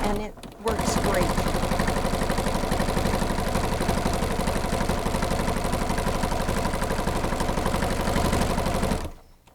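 A sewing machine stitches through a thick minky quilt, giving a continuous rapid mechanical clatter that runs evenly for several seconds at close range before stopping abruptly.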